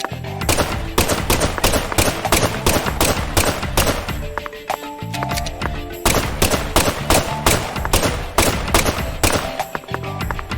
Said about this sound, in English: We're gonna have to open fire shortly.